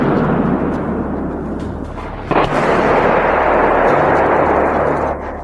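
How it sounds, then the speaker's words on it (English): Heavy artillery shells explode in a forest, a dense continuous roar of booms and echoing rumble with one sharper blast near the middle, loud and reverberant throughout. "Heavy shells flew in our direction. The forest was drowned in the echoes of explosions."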